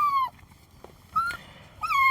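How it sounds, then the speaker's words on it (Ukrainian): A small dog whines with high, thin, tonal whimpers in three separate bursts, close to the microphone, with quiet pauses between them and no talking. "Самий найкращий песик на світі."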